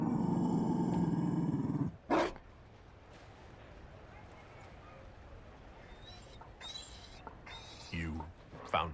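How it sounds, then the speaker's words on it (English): A Mabari war dog in the video game Dragon Age Inquisition gives a loud, deep growling bark lasting about two seconds, followed by a quieter ambient stretch with faint clatters and voices. "You found a dog?"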